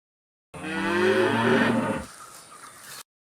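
Cattle moo loudly in a layer of added sound: one long, deep, drawn-out bovine bellow, close and alone, fading over about two and a half seconds.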